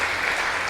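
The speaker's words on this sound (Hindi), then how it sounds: "जोरदार तालियों के साथ स्वागत हो" Loud, steady applause from an audience in a hall, welcoming a speaker at a Brahma Kumaris talk in Mumbai, dense clapping sustained throughout with no voices over it.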